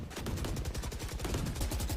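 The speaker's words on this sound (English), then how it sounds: "lots of gunfire" Rapid bursts of automatic gunfire in the video game Valorant, during an esports match, crackle continuously, dense overlapping shots from several weapons at moderate distance, with no voices.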